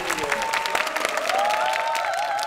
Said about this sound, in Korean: 따뜻한 박수로 청해 듣도록 하겠습니다